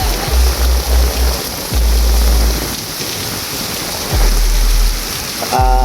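Strong typhoon wind gusts by the sea, buffeting loudly and continuously, with heavy low rumbling blasts and a rushing, roaring background like a stormy shoreline.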